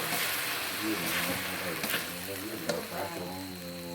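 Vegetables stir-fried in a wok over high, dry heat for a Thai dish of water spinach and long eggplant, a steady loud sizzle and frying hiss running throughout with a few stirring scrapes, and faint talk underneath.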